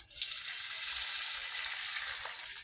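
Fried masala sizzles steadily in a pan as a little water is added, a dense continuous hiss and crackle close up, with faint stirring and no talking.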